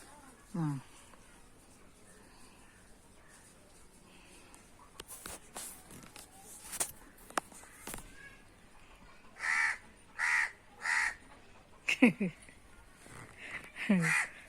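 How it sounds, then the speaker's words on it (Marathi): A crow caws outdoors near a hillside, giving several harsh calls, including a run of three evenly spaced caws midway and a few more later, between soft footsteps and rustling. "कावळ्याचा आवाज येतोय"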